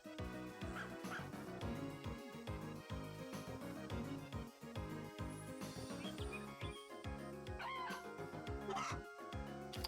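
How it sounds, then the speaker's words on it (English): Chickens cluck from the Story of Seasons: A Wonderful Life farming game, busy and steady over a constant layer of bright game music. "I hear you. I hear you. Chickens."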